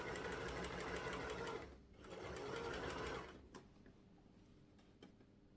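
A sewing machine stitches stretchy fabric for a scrunchie in two steady runs of close, loud whirring, pausing briefly between them, then stopping with a few faint clicks.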